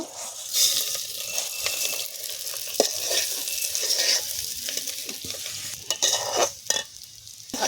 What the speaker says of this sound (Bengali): একটু ভেজে নেবো ভালো করে, একটু ভালো করে ভাজা ভাজা করে নেব।